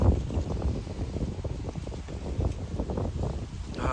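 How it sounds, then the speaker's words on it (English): Wind blows through leaves outdoors as a steady, close, broadband rush with soft gusty swells and some buffeting on the microphone, with no voices. "the beautiful wind is kicking, blowing through the leaves behind me"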